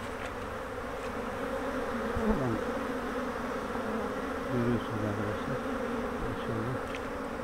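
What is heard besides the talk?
honey bees buzzing at hive entrance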